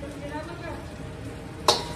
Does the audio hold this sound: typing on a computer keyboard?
no